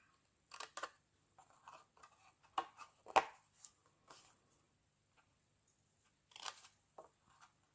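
Scissors snipping through paper card on the bias for a Stampin'Up treat box place card, a few short, crisp cuts in quick bursts with quiet gaps between, close and fairly faint.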